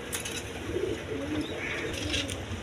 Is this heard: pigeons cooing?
yes